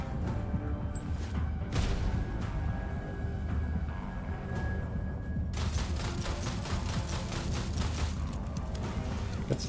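Machine gun fire in the video game Moon Mystery, with dense rapid bursts of gunshots, a short pause and then a louder sustained stream of fire, all continuous and close.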